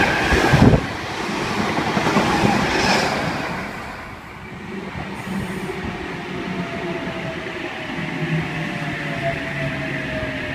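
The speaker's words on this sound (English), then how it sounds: "Got V13 passing platform 2." A Sydney Trains V-set electric train passes through a platform at Ourimbah station, a loud steady rumble and rush of wheels and air with a sharp clack at the start, holding strong before easing slightly.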